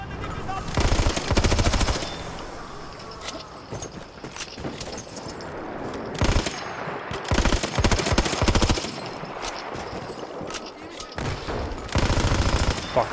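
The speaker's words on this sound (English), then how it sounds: "Düşman makinalı tüfeği." Enemy machine gun in a World War I shooter game set at Achi Baba, firing in loud rapid bursts separated by brief pauses, close and dominant, with bits of talk in between.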